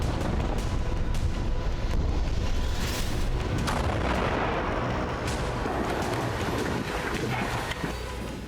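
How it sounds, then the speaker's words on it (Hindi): Tank shelling in the streets of Khan Younis, Gaza: loud, continuous rumbling booms and blasts filling the whole stretch, with several sharp impacts and a dense roar of war noise throughout. "टैंक खान यूनिस की गलियों में उतरकर गोले बरसा रहे हैं"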